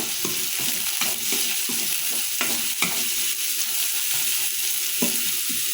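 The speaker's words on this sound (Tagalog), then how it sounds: "Haluin natin guys." Sautéed ginger, onion and garlic stirred in a pan for chicken adobo, a utensil scraping in repeated strokes over a steady close sizzle, with no voices.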